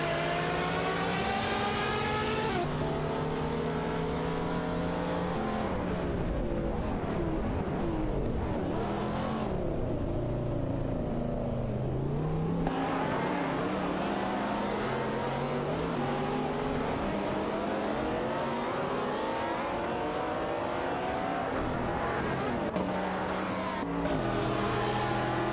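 Race cars, among them a Nissan GT-R Nismo, roar through an AI-driven racing video game in a loud, unbroken engine drone, revs climbing and dropping as gears shift and cars pass, with no talking.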